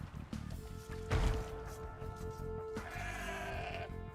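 Sheep bleat from an Age of Empires match, a drawn-out wavering call rising over a background of game ambience and soft clatter, with a second bleat near the end.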